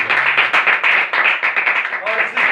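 An audience claps together in sustained, dense applause, loud and close, with a voice faintly audible underneath.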